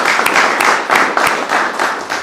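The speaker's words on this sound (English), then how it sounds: "if we could just give them a round of applause," Crowd applause at a lecture seminar, steady dense clapping from many hands in a room, moderately loud and continuous throughout with no talking.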